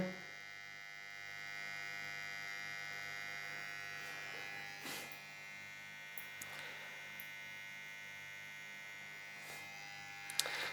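A homemade jump starter and battery charger built with thick conductors for currents up to about 100 amps hums steadily on its own at moderate level, a constant electrical drone with a few faint clicks and knocks over it.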